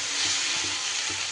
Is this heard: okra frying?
yes